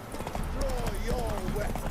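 The horse Roach gallops in The Witcher 3 with a quick, rhythmic clip-clop of hooves, while a voice talks over it.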